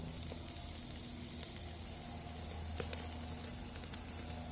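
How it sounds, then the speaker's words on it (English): Wagyu beef sears on a covered kettle grill, fat crackling and sizzling in a soft, steady hiss with scattered small pops, heard faintly and from a distance through the lid. "I'm trying to get a good sear on it."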